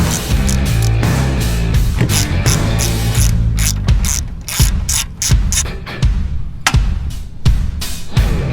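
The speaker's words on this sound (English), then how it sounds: "purchase that GearWrench 90-tooth ratchet, and see how it performs" A GearWrench 90-tooth ratchet clicking loudly up close, with rapid fine ratcheting bursts broken by short pauses and repeated strokes throughout.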